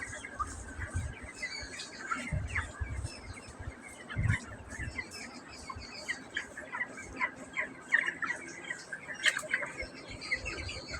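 Many chickens squawk, cluck and chirp continuously in a crowded poultry shed on a hot day, with a fan running, a dense busy chorus at moderate distance.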